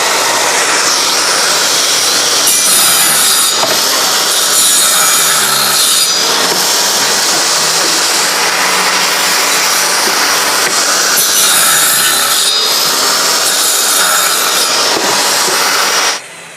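A homemade portable wood tongue machine cuts into wood with loud, continuous rasping and sawing, the pitch and intensity shifting in several passes before cutting off abruptly at the end; no voices.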